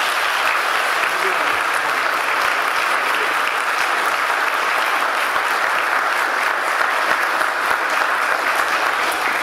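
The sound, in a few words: church congregation applause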